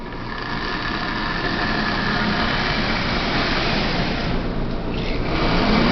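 A rusty Marx 595 toy locomotive's double reduction motor running, giving a steady, close electric buzz and whirr with a dense rattling texture, alone and without talk.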